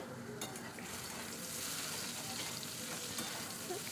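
Diced white potatoes frying in oil in a pan for a curry, a steady close sizzle with occasional scraping stirs, no voices.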